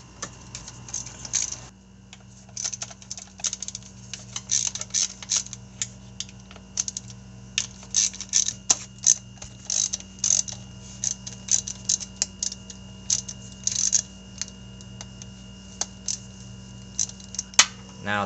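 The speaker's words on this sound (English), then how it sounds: "What I'm doing right now is to loosen all the bolts first before I completely take all the bolts out." Transmission pan bolts are loosened one by one with a ratchet on a 2015 Nissan Quest CVT, giving rapid close clicking in bursts over a faint steady hum.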